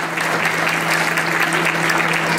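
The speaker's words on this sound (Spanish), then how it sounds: "Fuerte el aplauso para Brian Alexis Landa Jiménez" Steady, full applause from an audience at a school ceremony honoring a prize-winning student, continuous and fairly loud from start to finish with no breaks.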